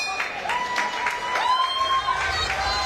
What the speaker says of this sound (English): So thunderous applause.